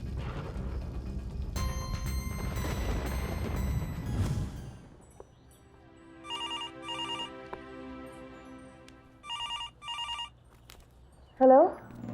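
A telephone rings in two pairs of short electronic trills over a quiet background, following a louder stretch of rumble and tones earlier.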